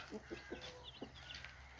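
Newly hatched chicks in a window-built coop peep softly in quick high chirps over a few low clucks, all faint and close against a steady hum.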